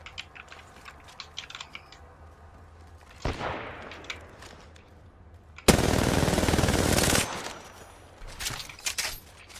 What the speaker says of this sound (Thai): ให้เขายิงกันไปก่อน